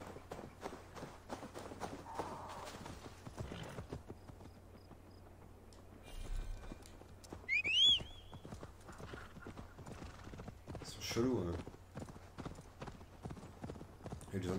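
A horse's hooves clip-clop in the video game Assassin's Creed Valhalla, a steady, faint rhythmic trot with a couple of whinnies partway through and quiet game ambience underneath.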